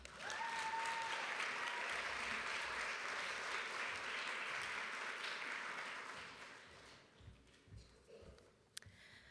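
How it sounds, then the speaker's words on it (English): An audience of students, guests and faculty applauds as a young woman is brought to the stage at a school event, a sustained even patter of clapping that fades out toward the end, with a few faint sounds after it dies down. "So let's bring her to stage with an applause"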